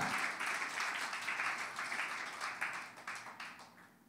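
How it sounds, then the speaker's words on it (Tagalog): Church congregation applauding during a sermon, a fairly faint, even spread of many hands clapping that slowly fades, with no voices over it. "Palakpakan nga natin ang ating Panginoon. Sige po, malakas sa palakpak para sa Kanya."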